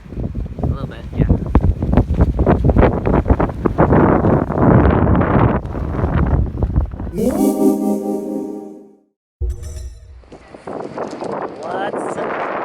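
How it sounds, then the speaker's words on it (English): Strong gusting wind at a campsite in Gaviota State Park, roaring and buffeting the microphone up close with heavy rumble, broken by a brief cutout before the gusts return. "It's so windy."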